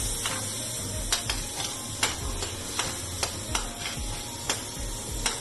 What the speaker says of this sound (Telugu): ఈ టొమాటో కూడా బాగా ఫ్రై చేయాలి